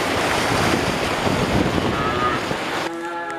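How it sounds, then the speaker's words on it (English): Creek water rushes through the narrow rock walls of Pleasant Creek narrows in a Utah canyon, a steady, loud, broadband wash that drops away abruptly near the end. "Very pleasant creek narrows here."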